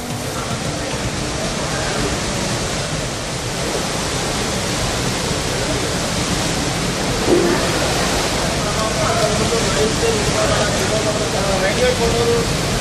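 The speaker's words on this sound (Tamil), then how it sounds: "அருவிகளில் வெள்ளநீர் ஆர்ப்பரித்து கொட்டியது" Floodwater roars down the Malwadi Gunda and Kapila Theertham waterfalls after heavy rain near Dharmapuri, a dense, steady, loud rush that fills the whole clip without a break.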